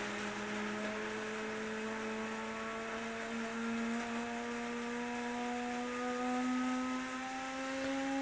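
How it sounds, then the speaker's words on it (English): A coffee maker runs steadily throughout, a continuous motorized whir with a rising tonal hum and hiss, fairly close, with no one talking over it. "That's just the coffee maker."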